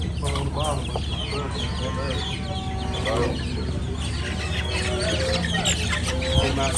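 Roosters and hens at a livestock stock sale cluck busily and crow amid a noisy crowd, with overlapping bird calls mixed into a steady hubbub of background chatter.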